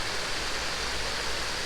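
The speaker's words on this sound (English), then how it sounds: "There's a lot of water coming over the bywash here today." Heavy water pours over a canal lock bywash in a steady, loud, full-bodied rush that stays unbroken throughout, like a small weir in spate.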